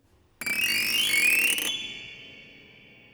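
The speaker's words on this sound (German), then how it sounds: "Besonders schön hört man das bestimmt, wenn man ein Glissando macht, durch den ganzen Bereich." A fast, bright glissando sweeps across the strings inside a grand piano, a shimmering metallic rush that ends abruptly and leaves a ringing tone slowly decaying.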